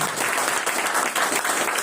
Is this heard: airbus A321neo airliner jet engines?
no